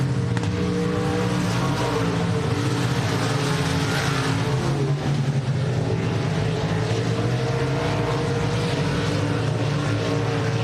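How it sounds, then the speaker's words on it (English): Race cars at Texana Raceway Park roaring down the back straightaway, a dense, continuous engine drone with steady harmonic tone that stays loud and even throughout, with no voices. "Down the back straightaway they go"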